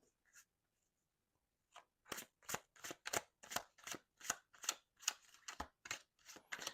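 Tarot cards are shuffled in a steady run of quick, crisp riffling slaps, close and clear, after a quiet start.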